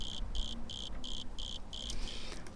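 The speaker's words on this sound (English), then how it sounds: "That sounds like crickets and insects and stuff like that, and I put that into the mix" A cricket chirps in a regular pulsing rhythm, six evenly spaced bursts followed by quicker trills, used as a jungle-style insect sample in a music mix, clear over a soft background hum.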